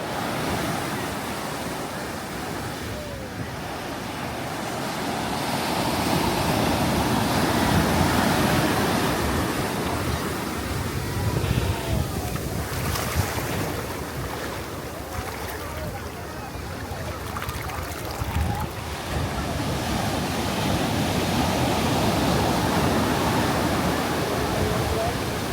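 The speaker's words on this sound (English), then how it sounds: "listening to the sound of the waves crashing" Ocean waves breaking on a Bahamas beach at Lookout Cay, a continuous broad roar of surf that swells and eases over time, steady and fairly loud with a faint voice mixed in.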